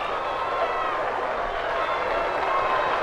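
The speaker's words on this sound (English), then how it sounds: "The crowd lining the streets is cheering and waving." A crowd lines the streets of Hennepin Avenue at a marathon finish line, cheering steadily at a distance as a runner approaches, a faint continuous roar that spreads through the air.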